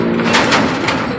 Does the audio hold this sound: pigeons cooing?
yes